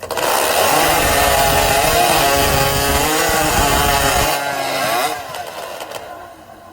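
Chainsaws roar loud and steady as they cut through timber in a lumberjack competition at a Pennsylvania championship, then the engines ease off and fade near the end, with no talking.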